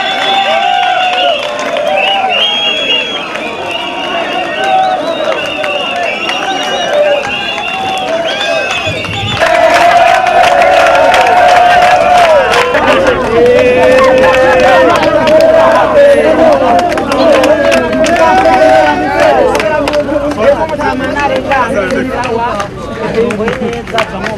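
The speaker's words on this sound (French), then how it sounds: "l'Ombudsman a été accueilli par une foule qui scandait le slogan « Nous voulons la paix, nous voulons la paix »" Large crowd in a commune of Bujumbura greeting an official during a crisis, mass voices roaring and chanting together, loud and sustained, swelling louder midway with dense overlapping shouts.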